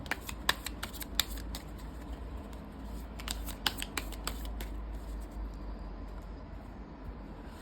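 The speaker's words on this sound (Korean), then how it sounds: "카드 일단 섞어줄게요." Tarot cards are shuffled by hand in quick bursts of crisp riffling clicks, close and fairly quiet, pausing and resuming before fading to a faint background hush.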